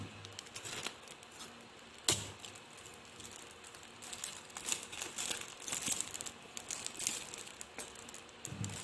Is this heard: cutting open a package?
yes